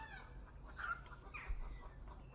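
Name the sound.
hens clucking in the background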